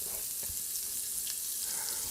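Oil and a tablespoon of butter sizzle hard in a hot tray with seasoned chicken thighs, a dense continuous frying hiss, close and steady, without speech.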